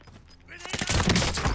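Video-game gunfire in a squad shooter match: a rapid volley of sharp shots builds from quiet to loud, rattling in quick succession over faint voice chatter.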